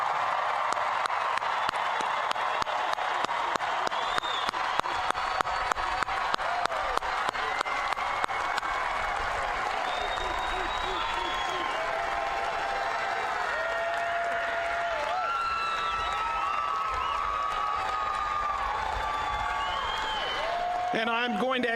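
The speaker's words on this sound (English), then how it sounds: "please join me in giving our graduates one last round of applause in recognition of their accomplishment" Graduates' families and guests at a University of Memphis spring commencement ceremony applaud steadily for about twenty seconds, a dense sustained wash of clapping in a large hall with occasional voices mixed in.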